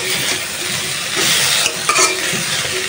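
Bitter gourd sizzles steadily in a hot pan while it is stirred, a dense, close crackle with a few light scrapes and clinks near the end.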